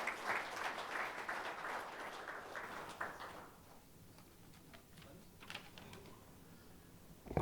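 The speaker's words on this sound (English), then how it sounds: "Let us give him a big round of applause to welcome him to" Audience applause welcoming a speaker at the inaugural session of a water management conference, moderately loud at first and then fading to a few scattered claps over quiet room noise.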